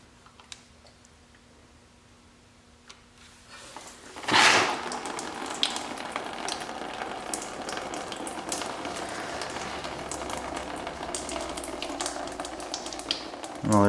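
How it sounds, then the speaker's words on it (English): Antifreeze coolant drains from a John Deere X738 mower and splashes over the frame. A sudden gush starts partway through, then settles into a continuous spattering trickle, close to the listener, with no voices. "It looks like it's going to hit this and then go all over the frame and give everything a good coating of antifreeze here."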